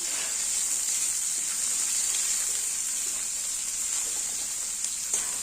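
Chopped tomato hits a hot pan of oil while cooking a Bengali rohu fish kalia, giving a loud, steady, close sizzle that holds evenly throughout with no voices.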